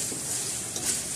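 Onions and beef for pyaz gosht frying in a pot while being stirred, a steady close sizzle with soft scraping under it, no talking.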